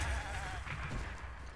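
Goats bleating in The Legend of Zelda: Breath of the Wild, a close, steady bleat lasting under two seconds with no talk over it.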